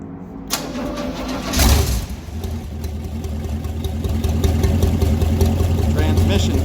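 A junkyard 1978 Pontiac 400 V8 cranks and catches on its first start with a brief surge, then settles into a steady, rising rumble close by.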